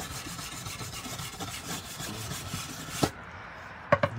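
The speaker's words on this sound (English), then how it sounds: "You just brush away all this soot." A soft wire brush rubs over burnt, charred wood to clear away soot, a quiet dry scratchy brushing in repeated strokes, followed by a couple of sharp knocks near the end.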